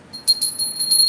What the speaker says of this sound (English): You get a bell.